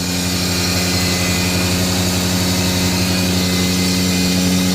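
Toyota Aristo with a turbocharged 2JZ-GTE engine running just after starting, a steady loud idle with an even mechanical hum and no talking.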